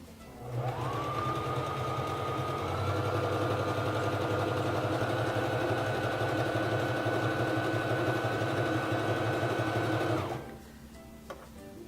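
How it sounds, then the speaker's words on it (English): A Singer Fashion Mate 3333 free-arm sewing machine stitches a zigzag stitch in one continuous run of about ten seconds, then stops. The motor whirs and the needle clatters steadily and close. "Lower your presser foot and begin sewing."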